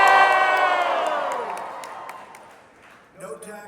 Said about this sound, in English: you're going to cheer for the one you like the most of the three